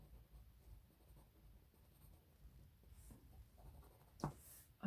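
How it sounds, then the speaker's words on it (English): Loose graphite pencil strokes scratching steadily across paper during a sketch made in preparation for a watercolour painting of an old market, soft and close, with a louder scrape near the end. "I'm holding my pencil quite loosely right through here."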